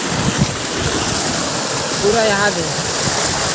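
Floodwater after heavy rain rushes through a canal beside flooded village fields in Chhattisgarh, a constant loud hiss and roar, while someone talks over it briefly.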